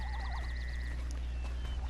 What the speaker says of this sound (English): Angry tree frogs down there, you can hear them.